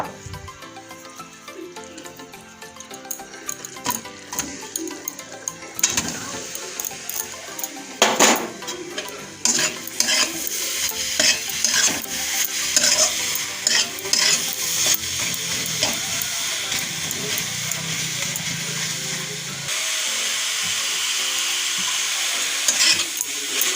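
Grated coconut with sugar and crushed cardamom being stir-fried in a pan: steady sizzling under repeated scraping and clinking of a spatula against the metal, sustained and fairly loud throughout with no talk.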